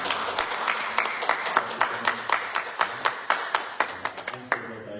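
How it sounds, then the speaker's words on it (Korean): Members of a church congregation clap in welcome for first-time visitors, a steady run of sharp, fairly close hand claps with some background voices underneath, the clapping thinning out near the end. "우리가 박수로 환영하도록 하겠습니다"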